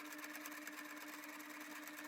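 A sewing machine runs a short straight stitch with small stitch length, securing a replacement belt loop on jeans; steady rapid mechanical whirring and ticking, close and fairly quiet, with no talking.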